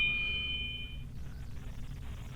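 A doorbell camera chime rings once, a clear bright ding that fades over about a second, followed by faint low room noise, with no one talking.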